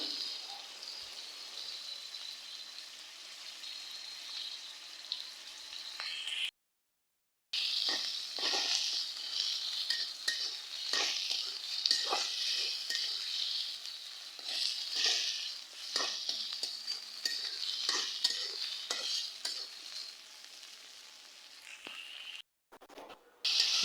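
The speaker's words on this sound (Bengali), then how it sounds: "এই যে কাঁচামরিচ, পেঁয়াজ আর এলো চিংড়ি মাছ কড়াইতে দিয়ে দিলাম" Chilies, onions and shrimp sizzle in a wok, with bursts of crackling and stirring over a constant hiss, briefly cut by two short silences.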